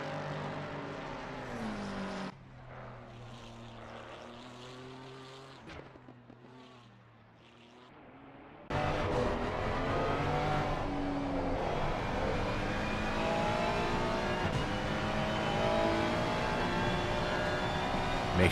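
GT3 race cars roaring down the long Mistral straight at Paul Ricard in a sim racing game, engines droning steadily with a quieter stretch before a loud, sustained full-throttle blare takes over.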